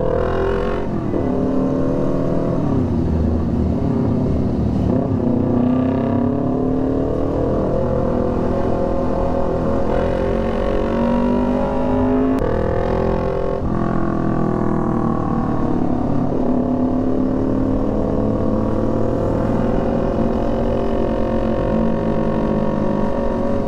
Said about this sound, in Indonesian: Banyak mobil kontainer kayak gini karena kan di sini tuh sekitaran pergudangan boy.